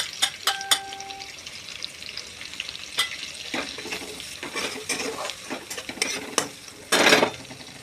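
Onion and tomato sauté with turmeric in a pan for a bombil and potato curry: a steady close sizzle, broken by frequent clinks and scrapes of stirring and a louder burst of frying near the end, with no speech.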